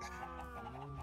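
Chickens cluck softly in the Minecraft video game, a quick run of faint, choppy bird calls over a steady background hum.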